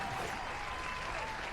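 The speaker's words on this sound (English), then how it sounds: "going to get the crowd to applause" A short burst of crowd applause at a SKAR CUP 2020 esports qualifier, a dense, steady clapping wash lasting under two seconds.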